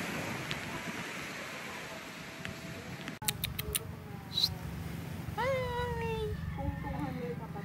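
A cat meows several times in short rising cries over quiet background sounds and faint human voices.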